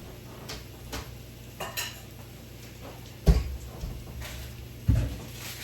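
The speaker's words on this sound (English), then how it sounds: "I need to get the strainer out." Metal pots and pans clank and rattle while a strainer is pulled out from among them, with two louder clanging knocks near the end over faint kitchen background.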